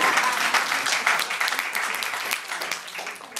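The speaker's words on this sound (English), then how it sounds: "let's have a round of applause for good story" A lecture audience breaks into applause, a steady wash of many hands clapping close by, holding for several seconds before tapering slightly near the end.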